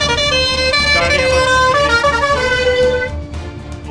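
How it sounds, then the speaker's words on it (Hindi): A musical vehicle horn plays a tune on a road in Uttarakhand, loud and sustained through the clip with shifting melodic notes, traffic and engine rumble underneath. "ये तो म्यूजिकल हॉर्न बजा रहे हैं भाई"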